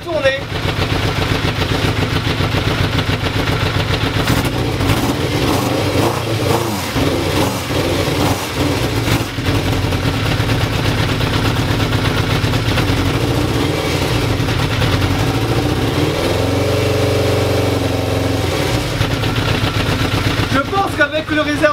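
A motorcycle left unused for a year sputters and then runs, its engine loud and close, idling and revving unevenly with sharp pops, while a person talks over it now and then.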